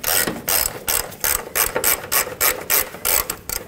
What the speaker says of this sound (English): I'm gonna switch to a ratchet so I can hopefully ratchet this off